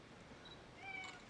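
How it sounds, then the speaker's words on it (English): A toy cat figure lets out a faint, thin electronic meow, a few short high-pitched tones at low volume over quiet room hiss. "the cat will actually meow at it"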